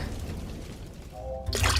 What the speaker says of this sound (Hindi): सुखीलाल दूध में पानी मिलाता है